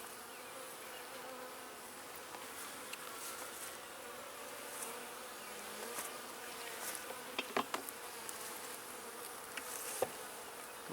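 Honeybees droning steadily and closely throughout a beehive inspection, a dense continuous buzz with a few faint knocks and clicks, no voices.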